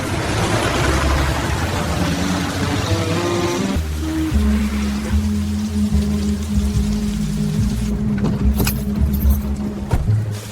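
Heavy rain pours down in a city, a loud, dense hiss with steady patter, partly under a sustained low tonal drone.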